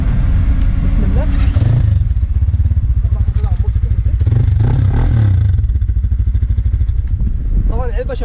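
A KTR 300 motorcycle engine fitted with an aftermarket exhaust box runs loud and close, rumbling at idle and then revving up in repeated rising bursts, with some clatter in between.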